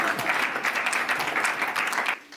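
Audience applause: a dense, steady patter of many hands clapping close by, sustained for about two seconds before cutting off abruptly.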